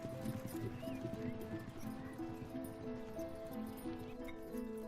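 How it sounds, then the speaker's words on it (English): Horse hooves clop steadily at a walking pace, with faint animal sounds mixed in over a continuous outdoor background. "I saw lights and heard horses and followed it until I came to a path."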